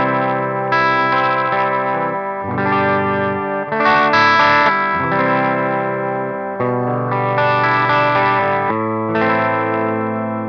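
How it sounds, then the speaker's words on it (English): A Fesley FLP350 electric guitar plays through its bridge pickup on a clean tone. Ringing chords and notes change steadily, loud and up front, with no voices. "So let's check out the bridge pickup on a clean sound."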